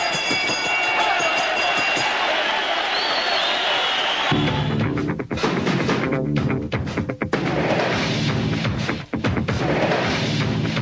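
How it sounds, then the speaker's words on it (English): Boxing arena crowd in Melbourne's National Tennis Center rising into loud, sustained roar and cheering after the fourth round of a title fight, a dense wash of noise with sharp bursts and jolts, no clear talking. "The crowd begins to come alive here at the National Tennis Center in Melbourne"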